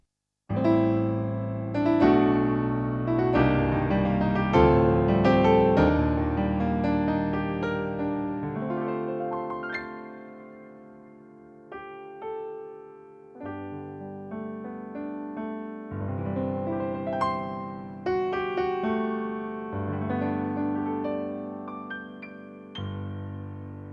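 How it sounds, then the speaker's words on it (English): A bright concert grand sound on a Kawai MP7SE digital stage piano plays chords and melodic runs, full and resonant, with a quieter sustained passage midway before building again; no voices. "that's another Concert Grand piano sound."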